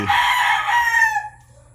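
A young rooster, a stag, gives a single loud close crow that trails off, with no talk over it.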